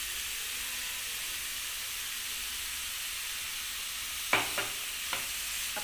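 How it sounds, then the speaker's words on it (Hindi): Vegetables cook in a pan for veg momo filling under a steady, fairly loud hiss of sizzling, and near the end a few sharp stirring scrapes break through. "अब सब्जियों को थोड़ा पकने तक हम इसे थोड़ी थोड़ी देर पर ऐसे चलाते हुए इसे हम पका लेंगे"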